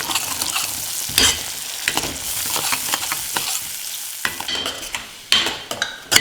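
Ground masala paste is stirred and fried in a pan, with a steady sizzle under repeated scraping strokes of a spoon against the metal, close up and with no talking.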